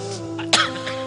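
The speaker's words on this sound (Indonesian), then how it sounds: "Ada batuk itu" A single sharp cough bursts out briefly over a steady background hum, standing alone without any talking.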